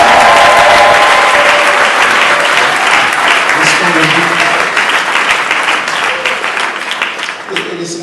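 Church congregation applauding and cheering to acclaim the Lord, loud dense clapping at full strength that slowly thins toward the end, with voices calling out beneath it.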